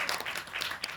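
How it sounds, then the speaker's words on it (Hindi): Audience applause at an advertising arts event in a hall, a dense wash of many hands clapping steadily for about a second, fairly quiet and distant. "पहले तालियां उन दो दीवानों के नाम जिन्होंने विज्ञापन की दुनिया के इतने दीवानों को यहाँ इकट्ठा कर दिया।"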